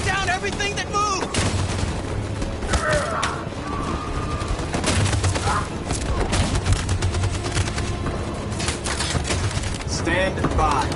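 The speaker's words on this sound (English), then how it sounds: "That machine gun is taking down everything that moves!" Dense battlefield gunfire from a machine gun in the video game Detroit: Become Human, sustained loud bursts with booming impacts and scattered shouting voices throughout.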